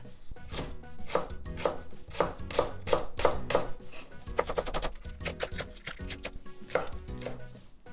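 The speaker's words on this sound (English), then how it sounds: "I'm just going to cut into diagonal pieces like this" A knife cutting scallion into diagonal pieces on a cutting board for miso udon, a close, crisp run of rhythmic chops that speeds into a rapid burst midway, then slows to spaced single cuts.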